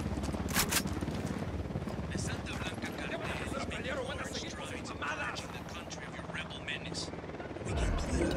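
A tricked-out helicopter in the Ghost Recon Wildlands video game, its rotor a steady throbbing chop that fills the scene under game voices and music, swelling louder near the end.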